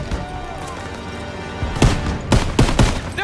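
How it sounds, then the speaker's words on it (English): Wartime battle gunfire from Call of Duty: WWII, with a sustained roar of combat and several loud, sharp bursts of shots near the end. The machine gun type cannot be confirmed. "Suppressive fire! Keep firing!"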